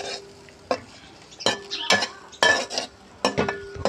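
A spoon stirs chickpeas with tomato in a hot frying pan, giving repeated metallic scrapes and clinks against the pan over a soft sizzle, close and moderately quiet.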